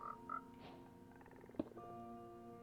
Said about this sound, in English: They're constantly making little frog noises.